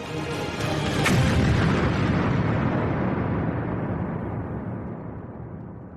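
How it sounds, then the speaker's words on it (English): A huge, deep boat bomb explosion on the water booms and rumbles, the roar swelling then slowly fading over several seconds. "There was an enormous explosion."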